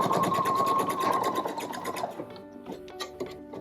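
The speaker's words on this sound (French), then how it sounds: "puis on vient piquer tout autour de la jambe" A sewing machine stitches around a pyjama leg, a loud, fast whirring run that stops after about two seconds and is followed by a few small mechanical clicks and handling noises.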